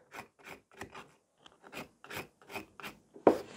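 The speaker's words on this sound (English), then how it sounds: "Always filing the same way" A file rasping over a sculpted gel stiletto nail in short rhythmic strokes, about ten close scratchy passes in steady succession with a slightly louder final stroke.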